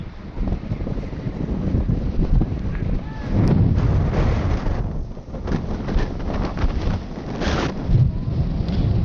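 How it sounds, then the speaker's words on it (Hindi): Strong wind buffets the microphone on a mountainside near Quetta, a steady rough roar, with people talking under it. "हवा बहुत ज़्यादा तेज़ हो गई है कि हम लोग यहाँ से रड़खड़ा रहे हैं"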